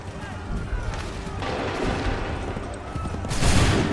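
Musket volley gunfire in the Assassin's Creed III video game, a dense, continuous clatter of shots and booms filling the whole stretch, with a louder burst near the end and battlefield din beneath.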